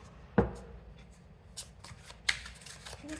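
A deck of tarot cards is shuffled by hand close up, with three distinct riffling bursts spaced apart over a quiet background and soft handling rustles between them.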